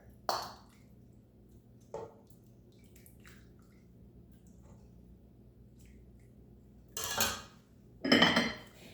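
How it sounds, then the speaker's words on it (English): Chicken chili soup being dished into a bowl: a few faint utensil clinks and a couple of louder wet scraping ladle sounds near the end, close and otherwise quiet. "I'm going to dish some up in my bowl so you can see it a little bit better"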